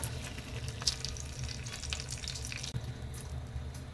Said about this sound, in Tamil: எண்ணெய் சூடானதும் இந்த மாதிரி ரெண்டு பிரிஞ்சி இலை